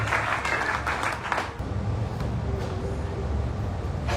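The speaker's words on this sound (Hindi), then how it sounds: "So let's put the hands together as they come and share the word." A church congregation at a Palm Sunday service applauds, a dense, steady wash of clapping filling the room, close and sustained throughout.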